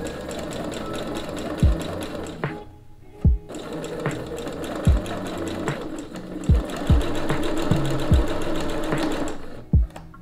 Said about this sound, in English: I'm going to chain sew the rest of my geese the same way